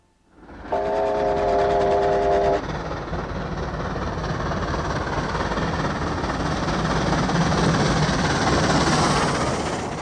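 Steam locomotive 3801 hauling a train on Australian standard-gauge track, heard as a loud, steady rolling roar that fills the whole span, with a brief multi-tone whistle blast near the start.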